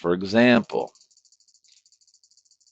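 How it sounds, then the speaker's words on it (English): Someone speaks briefly, then a steady run of quiet, evenly spaced typewriter key clicks continues alone in the background. "I don't know if you can hear my typewriter that I have going in the background."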